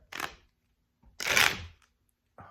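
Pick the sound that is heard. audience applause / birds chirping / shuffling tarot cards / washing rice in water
shuffling tarot cards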